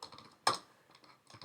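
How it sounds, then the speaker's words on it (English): Password being entered on a computer keyboard, with a few soft scattered keystrokes and one sharp, louder key press or click near the start, all quiet and close by. "I just type here"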